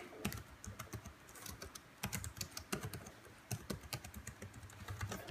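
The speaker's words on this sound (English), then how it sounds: "Types quite nice. I like the feel of the keyboard." Steady typing on a New Trent AirBender 5 Bluetooth keyboard paired with an iPad Air 2: a fast, close run of light plastic key clicks with occasional slightly louder strokes, continuous and alone with no talk.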